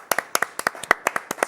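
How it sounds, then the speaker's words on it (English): Steady, close hand clapping at a live crafting demonstration, a brisk rhythm of sharp claps from a small group without cheering. "give her a round of applause, Chesney?"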